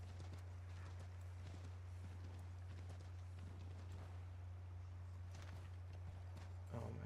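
Horse hooves clip-clop steadily at a walk in the Assassin's Creed 3 video game, a continuous muffled patter over a constant low hum, with no talk.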